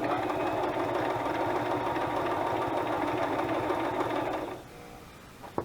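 A sewing machine stitches fabric for a quilting collage in a fast, loud, continuous whirring run that stops near the end, followed by a few faint clicks.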